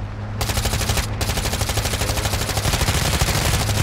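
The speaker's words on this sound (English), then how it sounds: "Why are you guys still shooting?" Sustained automatic gunfire from Call of Duty DMZ, a dense rapid stream of shots that rattles on for several seconds with only a brief gap, loud and close with no talk over it.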